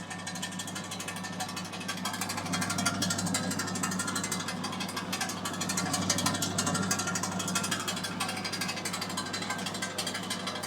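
Household pellet mill GKP-4-220 pressing broiler feed pellets: a continuous loud mechanical grinding and rattling with a steady low motor hum, close by and without talk.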